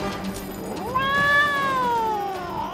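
A cartoon cat from Les Super Nanas lets out a single drawn-out meow, close and clear. The pitch rises, holds, then slowly falls over about two seconds.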